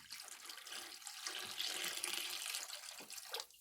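Water sloshing and swirling steadily as paydirt is panned for gold, the gritty wash carrying black sand; a continuous close, fairly loud splashing that swells and eases over a few seconds with no voices.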